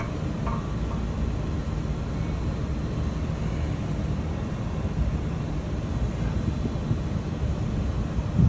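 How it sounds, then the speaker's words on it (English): Steady low rumbling wind buffets the microphone throughout, a continuous blustery roar with no other distinct sounds. "It's nice and windy too today, which is good."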